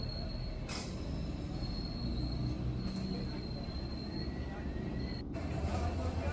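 A train rolls steadily toward Ramanathapuram railway station, carrying a continuous low rumble of wheels on track with faint high squeals drifting through, heard from inside the carriage.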